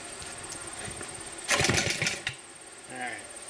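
A Briggs & Stratton 6S engine on a power trowel is pull-started: steady background hum, then a loud burst of rope-pull cranking that sputters briefly before dying back, with a shorter quieter pull near the end.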